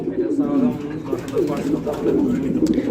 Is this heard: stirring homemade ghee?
no